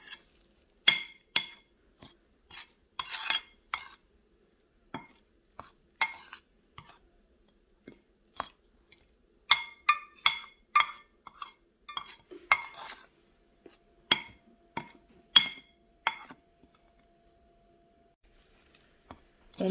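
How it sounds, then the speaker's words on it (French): Flour and seasoning mixture being stirred in a bowl for fried chicken, heard as irregular clinks and scrapes of a utensil against the bowl, close and in sporadic bursts. "Je vais venir maintenant mélanger tout ceci jusqu'à obtenir vraiment une couleur vraiment homogène"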